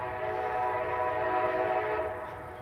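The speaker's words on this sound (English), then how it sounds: "There's another train passing through." A southbound Connecticut Rail train passes near a Wallingford, Connecticut cemetery, its sustained horn blaring in a steady chord over low rail rumble, loud and close before easing slightly at the end.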